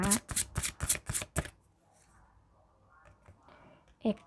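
A deck of Romance Angel oracle cards is shuffled close by in a quick series of crisp riffling slaps, then goes quiet except for faint handling and one last soft tap.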